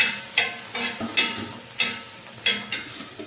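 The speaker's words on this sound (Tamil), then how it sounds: "தக்காளி பச்சை மிளகாய் கொடை மிளகாவையும் போட்டுட்டேன் எல்லாம் போட்டு நல்லா கிண்டுவோம்" Tomato, green chili and capsicum are stirred and fried in a pan, with loud sizzling and a spoon scraping in bursts every half second or so, close up and without talk.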